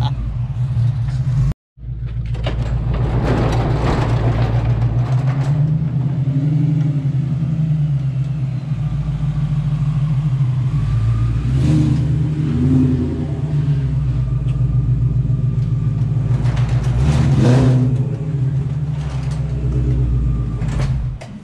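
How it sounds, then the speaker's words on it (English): Supercharged Ford Foxbody fitted with a Coyote V8 and Whipple blower, idling with a steady low rumble and rising in a few revs as it drives, voices talking faintly over the engine. "You hear a little blower when doing that."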